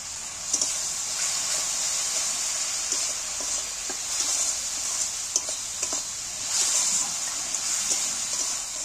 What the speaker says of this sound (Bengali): আমি জল ঢেলে দিয়েছি